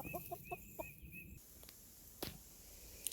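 Farm hens clucking close by in a flock of 19 hens and 3 roosters, a run of quick, quiet clucks in the first second or so, then quieter yard ambience with an occasional soft sound.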